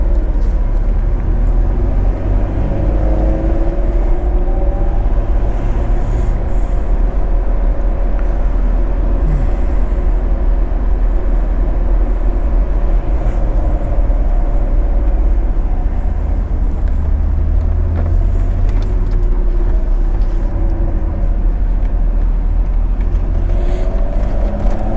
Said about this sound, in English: just have a close listen to the NSX on the way out of the pit lane for Session 1